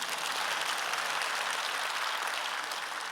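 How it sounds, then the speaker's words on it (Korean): A church congregation at a New Year blessing service claps in a soft, even, continuous patter heard from some distance. "박수 치요"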